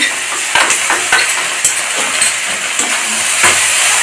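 Ginger paste stir-fried with salted, fried onions in a pan for a Bengali chicken skin curry: a steady close sizzle with intermittent scrapes and knocks of a spoon against the pan, no voices.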